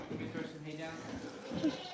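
Goats bleating on a farm, a few short wavering calls near the middle and end, mixed with nearby talk and background noise.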